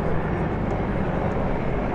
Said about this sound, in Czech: MI-171 je vybaven stejnými motory jako MI-24